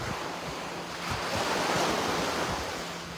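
Ocean surf rolls and breaks on a shore in Angola in a steady, broad wash of noise that swells slightly midway, with wind buffeting the microphone throughout.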